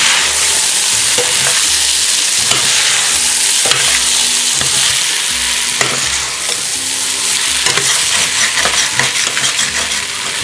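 Venison goulash frying in a pan while a utensil repeatedly scrapes and stirs the bottom, bright steady sizzle with intermittent metallic scrapes and clinks, loud and close throughout.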